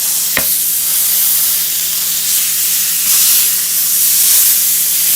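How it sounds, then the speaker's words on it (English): Fatty 80% lean ground beef browning in a hot pan, giving a loud, steady sizzle and hiss with a single sharp clack near the start and no voices. "And brown up my ground beef."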